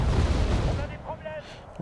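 Mirage F1 airstrike explosions in the video game Wargame Airland Battle, a heavy booming blast that rolls and fades over a second, with a further thud at the end and a voice faintly under it.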